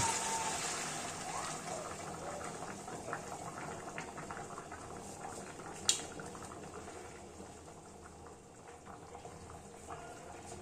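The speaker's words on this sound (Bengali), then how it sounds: "এবার আমরা ঝোলের মাপ মতো এতে গরম জল দিয়ে দেব।" Hot water poured into cooked chicken curry in a pot, a continuous bubbling, gushing wash of liquid over the simmering gravy with one brief clink of metal midway, no speech.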